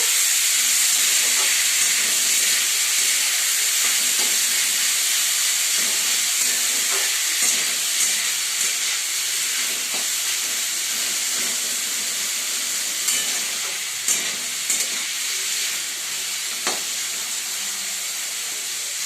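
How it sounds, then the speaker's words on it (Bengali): Chopped onion fries with garlic and ginger for an egg tadka dish, giving a loud, steady hissing sizzle with intermittent stirring knocks and scrapes. "এই রসুন আদা ভাজা হয়ে গেছে কিছুটা। এবার এর মধ্যে পেঁয়াজ কুচি দিয়ে দিলাম।"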